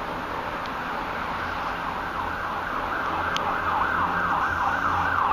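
A fire engine siren wails in a steady rising-and-falling cycle, growing louder as the truck approaches through traffic toward a large fire, with road noise underneath.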